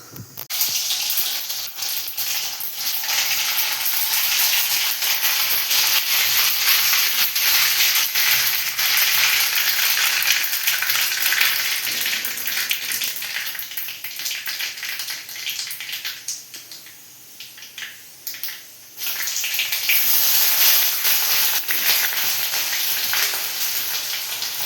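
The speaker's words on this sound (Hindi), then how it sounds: "तो अभी मैं बस ये इसमें तड़का वगैरह लगाती हूँ" Onion fries in hot oil as a tadka for aloo thichwani, a loud, dense hiss that runs nearly throughout, dipping briefly before surging back.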